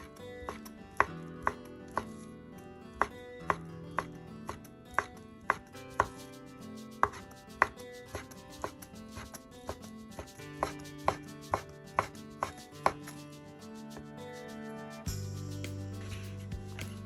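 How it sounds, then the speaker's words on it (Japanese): A knife finely julienning ingredients on a cutting board for temari sushi, sounding as a steady series of crisp close taps, with a short pause mid-way and soft background music throughout. "少し端を落として細かく千切りにします"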